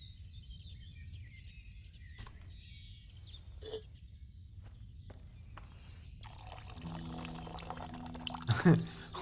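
Water is poured into a cauldron over a fire in Kingdom Come: Deliverance, with a steady splashing pour in the final few seconds after quiet ambience with scattered drips and faint bird calls.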